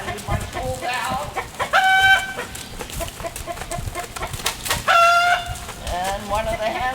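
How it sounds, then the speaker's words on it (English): Hens in a farmyard cluck, with two louder drawn-out bursts of the cackling call a hen gives while laying an egg, over steady background noise. "one of the hens is probably laying an egg, so that's a sound Sadie's heard"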